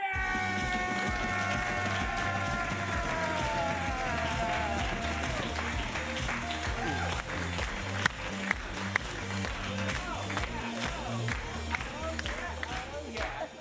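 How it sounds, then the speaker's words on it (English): Audience applause and crowd noise for the Curious Comedy Players at an improv comedy show, a steady wash of clapping running throughout under loud music, with a voice talking over it. "Why don't you give a big round of applause to the Curious Comedy Players?"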